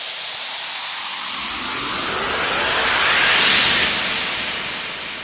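White noise riser with an up-filter sweep, a hiss that rises steadily in brightness and volume, peaks, then falls away briefly at the end, alone with no other sounds.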